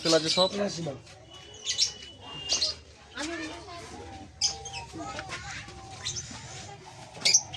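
Small cage birds chirp in brief bright bursts throughout a pet bird shop in Kolkata, with someone talking over them, the calls clustered and fairly close.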